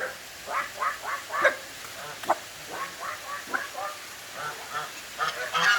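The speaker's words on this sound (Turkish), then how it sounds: "Ördekler var. Vak vak da yapıyor." Ducks quack repeatedly outdoors in Alanya, Turkey, a scattered series of nasal calls at moderate distance, some overlapping, with faint background ambience.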